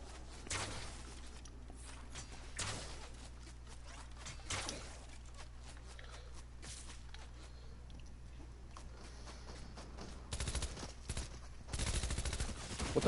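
Faint, scattered gunshots from a Fortnite competitive match crack out at intervals over quiet game ambience, then bunch into denser rapid bursts of fire near the end.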